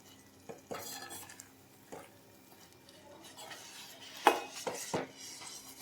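Mango rava kesari being mixed with mango puree in a pan over a medium flame: soft intermittent scraping and clinks of a spoon against the pan, with one sharper knock near the end, fairly quiet and with no talking.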